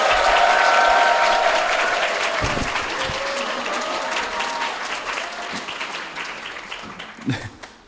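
An audience applauds to welcome actor Park Jung-min, who also runs the publishing house Mujae, onto the stage of a publisher-and-bookseller talk event; loud, dense clapping right from the start that slowly thins and fades over about eight seconds.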